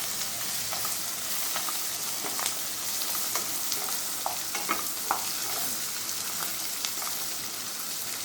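Three green chillies drop into mutton keema frying for biryani, bringing a constant close sizzle with popping crackles and scattered stirring clicks, no voices over it.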